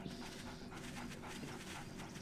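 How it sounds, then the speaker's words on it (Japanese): Several hostile dogs in the survival video game 7 Days to Die pant and whimper in a quiet, steady stretch of rapid breathy panting, fairly soft and continuous. "犬何匹いるんだ"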